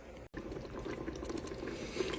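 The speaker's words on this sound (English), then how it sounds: "covered them with water, and they are going to simmer for about 30 minutes." A pot of water bubbles and simmers steadily at low volume, a soft continuous burble with tiny pops throughout.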